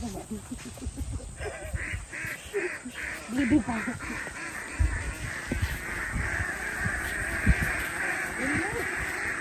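Ducks quack in scattered bursts across a duck egg farm near rice paddies, a steady flock chorus at moderate distance with overlapping calls and brief sharper quacks throughout.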